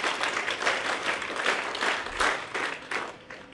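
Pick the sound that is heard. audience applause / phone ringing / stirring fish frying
audience applause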